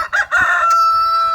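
A rooster crows loudly and close by, following a few short clucks from nearby chickens, with the long final note held to the end.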